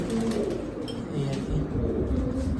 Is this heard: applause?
no